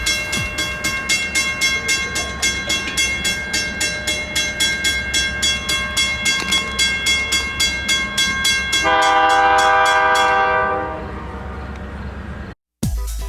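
A train rolls through a railroad crossing, its steady rhythmic clatter of wheels joined by a crossing bell's regular ringing, then a loud sustained horn blast before the sound cuts off abruptly.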